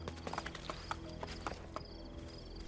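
Hooves of a horse following the player clip-clop in the video game Assassin's Creed Brotherhood, a quick, steady trotting rhythm, faint and mixed with ambient game sounds.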